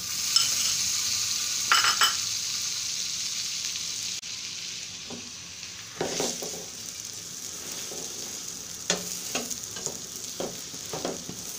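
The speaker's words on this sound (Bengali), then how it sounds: "এটা চেপে চেপে দুই পাশ থেকেই ব্রাউন করে ভেজে নিতে হবে।" Pizza paratha frying in butter in a pan gives a steady bright sizzle throughout, broken by occasional scraping and pressing taps from a utensil against the pan.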